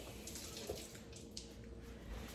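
Tap water runs steadily and softly at close range as garlic is rinsed off an eggplant, with light splashes and no voices.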